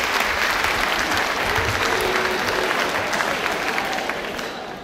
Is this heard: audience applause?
yes